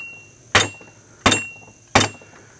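An unloaded rifle fitted with a Hiperfire trigger is slammed down on a table three times, each a sharp close hard knock with a short ringing tail, evenly spaced about 0.7 seconds apart.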